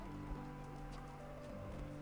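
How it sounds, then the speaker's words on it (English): Rain patters steadily in the video game Black Skylands, a soft even wash underneath sustained tonal game music with no speech. "it's raining now"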